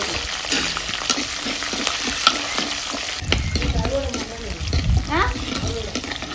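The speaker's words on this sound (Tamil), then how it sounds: "சின்ன வெங்காயம் நல்லா பட படன்னு நல்லா பொரிஞ்சதும்" Small shallots fry in oil for a tamarind curry, a crackling sizzle with clicks and scraping of a spoon, joined midway by a louder burst of lower clattering and bubbling; voices are faintly present at moments.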